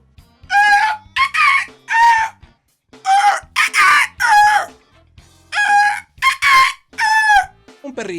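A person mimics a rooster crowing, producing several loud, close cock-a-doodle-doo calls in quick succession with short gaps between them and no spoken words.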